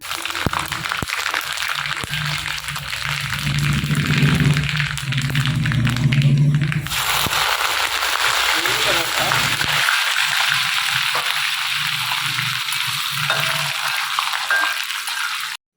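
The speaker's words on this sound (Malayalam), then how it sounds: "കടുക് നല്ലവണ്ണം പൊട്ടിത്തെറിക്കും." Mustard seeds splutter and crackle in hot oil for a Kerala-style lemon pickle, a dense, loud sizzling that continues steadily throughout.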